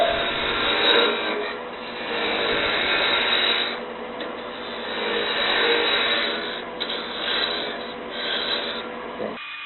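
A hand-held turning tool cuts wood while a sphericon is being turned, producing a continuous, close, rasping scrape that swells and eases in uneven waves for nearly ten seconds before stopping abruptly.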